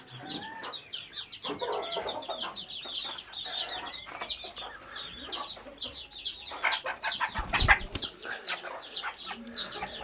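Several chickens cluck and cackle close by in a coop, overlapping calls with some wing flapping and small bird chirps, continuous and fairly busy.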